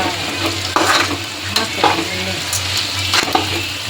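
Roasted gram (putani) fried in oil for Kalaburagi-style chivda: a loud, close sizzle under repeated scraping and stirring of a spoon against the pan, with sharp metallic clicks at irregular intervals.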